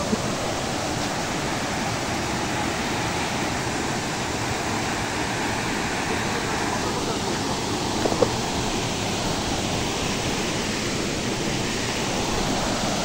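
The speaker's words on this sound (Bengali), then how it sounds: "পানি আর পানি দেখুন।" Water rushes steadily over rocks at a waterfall in Sreemangal, a dense, continuous roar close by with no pauses and no voices.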